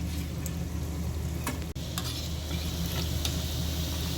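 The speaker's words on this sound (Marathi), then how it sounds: "आता आपण कोफ्ते परत तेलामध्ये सोडून घेऊया, जेणेकरून ते व्यवस्थित क्रिस्पी होतील." Sweet potato koftas go back into hot oil to crisp, producing a continuous close sizzle and bubbling with a couple of brief clicks.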